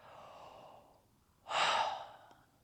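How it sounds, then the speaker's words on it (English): One close breath is drawn in softly and then let out in a stronger, airy exhale lasting about half a second, with nothing else around it. "Just take a deep breath."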